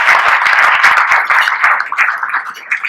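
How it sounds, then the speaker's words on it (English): Applause from a gadget-show audience as a guest presenter is welcomed onstage, a dense steady clatter of many hands clapping close and loud for about three seconds, with no talking over it. "Travis Ryan, give him a little round of applause"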